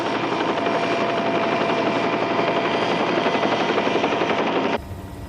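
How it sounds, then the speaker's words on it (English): Helicopter engine on a rescue craft hovering over a crater, a loud, steady rotor and turbine roar with rattling chop that drops abruptly to a quieter rumble near the end. "I'll have to move the copter clear."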